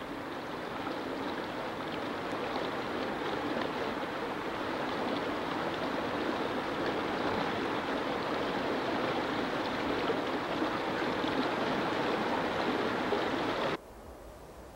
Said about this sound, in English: This is the great Sidaria River, which rises in the Tian Shan Mountains and flows westward through the Fergana Basin.